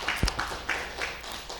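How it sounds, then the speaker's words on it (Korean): Audience clapping at a Buddhist lecture, a short run of rhythmic claps in a reverberant hall, moderately loud with a sharp thump near the start. "우리 제심한테 박수 한번 주십시오"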